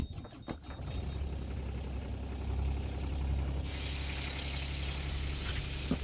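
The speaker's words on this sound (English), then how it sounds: "Well, let's see if the engine will turn on now." A small boat's outboard engine, just cleared of something wrapped around the prop, idles with a low steady rumble after a few sharp knocks at the start, on a wet coastal trip toward Tahsis.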